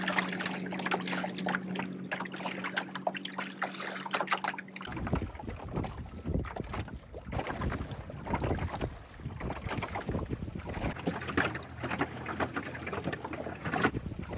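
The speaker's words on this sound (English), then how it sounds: "this is sailing in the Venetian Lagoon" Sailing boat crossing the Venetian Lagoon, with steady broadband wind rushing across the microphone and water washing along the hull, continuous and fairly loud, with no voices.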